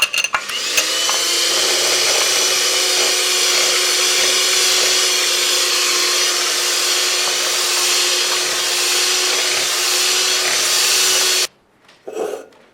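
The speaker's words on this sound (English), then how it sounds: "now you can start slowly beating in the eggs into the sugar" An electric mixer runs steadily at close range, beating eggs into a creamy mixture of honey, sugar and oil, a loud continuous whirr with a slight rise in pitch early on that stops abruptly near the end, followed by brief clatter.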